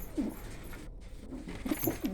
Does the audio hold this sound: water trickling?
no